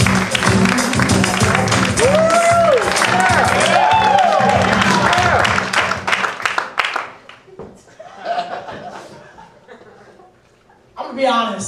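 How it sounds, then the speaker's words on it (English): A comedy club audience applauds and cheers loudly for a comedian taking the stage, dense clapping and whoops for about six seconds before fading into scattered claps and quieter murmurs. "Put your hands together for Josh Popkin"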